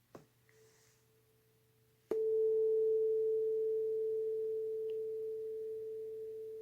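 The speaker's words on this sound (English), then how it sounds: "how did placing this on the book make that louder?" A vibrating reed sounds a single faint tone, then grows sharply louder once it is set against a book, holding a steady sustained buzz that slowly fades.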